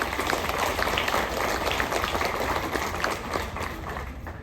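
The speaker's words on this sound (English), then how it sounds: "A big round of applause for all our fallen viewers." A crowd applauds steadily throughout at a veterans tribute ceremony aboard the Royal Caribbean cruise ship Anthem of the Seas, a dense, even wash of clapping that eases slightly near the end.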